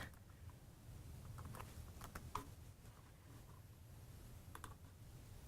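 Keys on a computer keyboard are tapped in a few short, scattered bursts while a search is typed, the clicks faint and soft over a low background hum.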